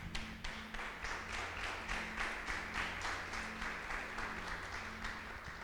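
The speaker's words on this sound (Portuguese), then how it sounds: "dê um aplauso ao Senhor Deus." A church congregation applauds, with steady rhythmic clapping from many hands at low volume, fairly uniform in pace and with no one talking over it.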